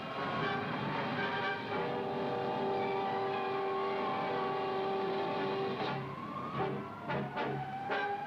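Sirens of ambulances and fire engines speed along the highway between Galveston and Texas City toward a disaster scene, with sustained loud wailing tones, then choppier bursts toward the end.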